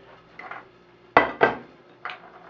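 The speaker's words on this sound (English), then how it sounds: "I can scrape that meat right out of that sausage" A metal fork scraping sausage meat onto a plate while making biscuits and gravy: a few light clinks and scrapes, two sharper taps in the middle, close and fairly quiet.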